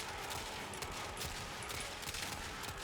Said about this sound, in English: You see how it actually shoots like pretty fast for a sniper rifle?